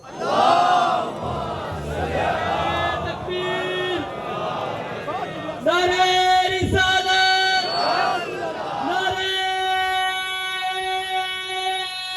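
A large crowd at a religious celebration gathering in Faisalabad loudly chants salawat in unison, a swelling, sustained roar of many voices with a reverberant, amplified quality.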